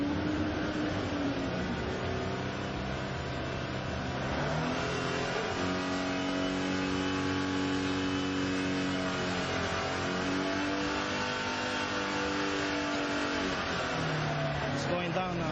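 An old clunker car's engine revs hard with rising and falling pitch sweeps, then winds down toward stalling, loud and close, with a voice talking over it.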